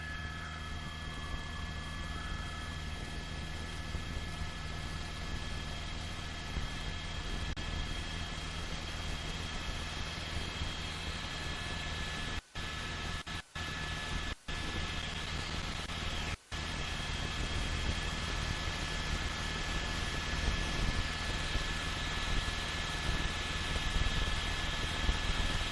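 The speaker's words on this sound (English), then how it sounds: "CHP chopper." A California Highway Patrol helicopter hovers overhead during a Los Angeles police chase, its rotor and engine making a steady, broadband drone that fills the whole stretch with no speech, broken only by a few brief dropouts.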